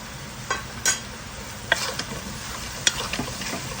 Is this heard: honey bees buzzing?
no